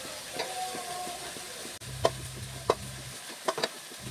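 Okra frying in coconut oil in a pan, a steady close sizzle and hiss with a sudden burst as more oil goes in, followed by a few sharp clinks of stirring.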